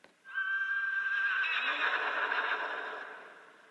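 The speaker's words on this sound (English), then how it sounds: "when you click on it, it's got this really creepy horse screaming sound" A creepy, drawn-out horse scream from The Simpsons: Tapped Out mobile game, a loud, echoing neigh and whinny lasting several seconds before fading out, heard alone.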